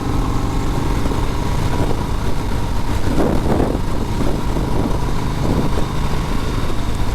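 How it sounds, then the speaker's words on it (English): A 2020 Harley-Davidson Sport Glide motorcycle engine with stock exhaust runs steadily and close by, a deep, throaty rumble with no talking. "This has the stock exhaust on it. It sounds plenty good. It's a nice throaty sound."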